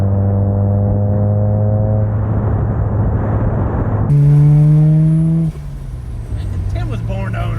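A Mazda RX7 with a rotary engine and bad alignment driving on the road, its loud droning exhaust note rising in pitch as it accelerates, heard from inside with people talking over it.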